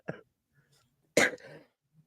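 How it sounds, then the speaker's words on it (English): A woman coughs after a fit of laughter, one short cough and then a louder, harsher burst with a trailing rasp, close by in a quiet room, with a faint sound at the very end. "Every time I laugh, I start coughing."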